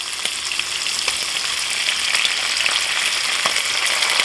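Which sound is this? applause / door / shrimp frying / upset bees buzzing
shrimp frying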